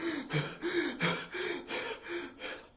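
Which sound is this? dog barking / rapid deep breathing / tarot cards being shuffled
rapid deep breathing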